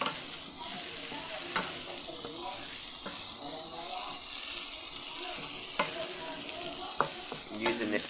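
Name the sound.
stirring Cajun chicken in a frying pan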